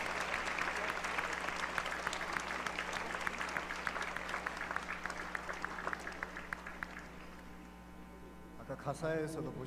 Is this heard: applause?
yes